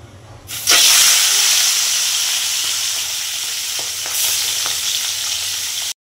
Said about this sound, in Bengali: তো এইদিকে আমার মাছগুলো ভাজা হয়ে গেছে